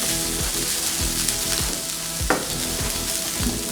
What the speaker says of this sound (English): I'll let the onions cook and become soft before I add the chilies.